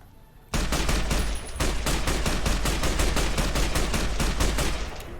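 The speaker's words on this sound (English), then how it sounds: "Clear line of sight and start shooting folks." Sustained automatic weapon fire in the game Fallout New Vegas, opening after a quiet moment into a long, loud stream of fast, evenly spaced shots with a brief hitch, no voices.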